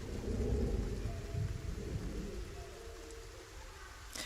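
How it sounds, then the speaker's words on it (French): Steady rain ambience from the video game Dordogne, a dense continuous patter with low rumbling thunder building early, then settling into an even downpour. "c'est trop stylé l'effet de pluie comme ça."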